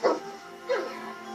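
An excited dog watching TV lets out two short, high whimpering yips about half a second apart, close and fairly loud, with a faint whine trailing after.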